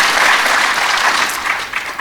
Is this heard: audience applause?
yes